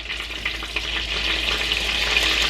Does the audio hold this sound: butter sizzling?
yes